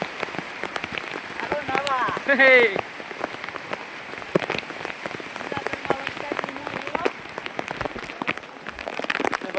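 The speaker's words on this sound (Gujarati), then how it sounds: "જુનાગઢમાં ધોધમાર વરસાદ પડી રહ્યો" Heavy rain falling on a stone-stepped path down Girnar mountain near Junagadh, a dense close patter throughout with people talking and calling out over it.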